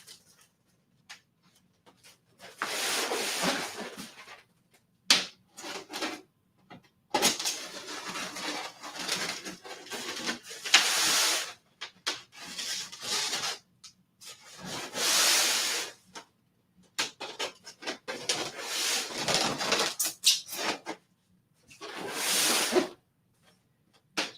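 A statue shipping box, holding a one-third scale Arkham Knight Joker figure, is torn open with a knife in a series of bursts of scraping, ripping and rustling, each a second or two long and separated by short pauses, close and fairly loud.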